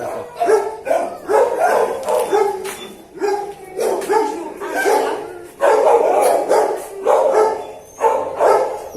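Dog barking repeatedly inside a box at a new SPA animal shelter kennel in Bergerac, a recently abandoned dog, loud sharp barks in an irregular rhythm filling the whole stretch, with faint voices underneath.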